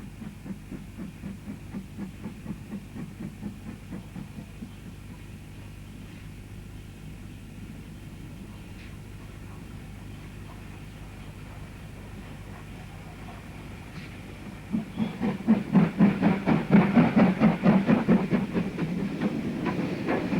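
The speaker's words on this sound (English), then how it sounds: "The Class 4 is on duty today and takes its turn to haul heavy trains up the incline" A Class 4 steam locomotive on a heritage railway hauls a heavy train up an incline, rhythmic chuffing and clanking pulses steady for a stretch, then swelling much louder and closer near the end as it passes.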